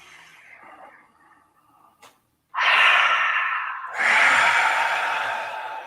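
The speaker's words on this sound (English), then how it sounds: "just breathe deeply from your belly all the way up to your crown" A slow, deep breath drawn in, then a long, loud exhale like a sigh, close to the mic with no talking.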